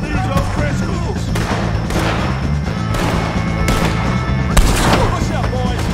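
A gunfight against O'Driscolls in Red Dead Redemption 2, with dense repeated shots and booming reports layered over shouting voices and a chaotic battle background.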